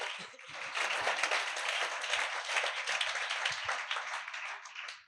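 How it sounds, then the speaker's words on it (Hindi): A studio audience on a Christian talk show claps hard in welcome, a dense, sustained round of applause swelling quickly and holding steady for several seconds before fading out. "जोरदार तालियां बजाकर हम आपको वेलकम कहते हैं."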